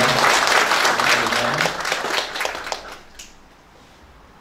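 An audience at a peace ambassadors' council event claps in steady, lively applause that gradually fades away over a few seconds.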